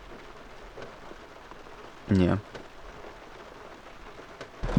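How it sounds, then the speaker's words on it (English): Heavy rain pours down in a steady, dense hiss that lasts throughout, with one short spoken word near the middle and a faint thump at the end. "Man, it is raining hard still, super hard."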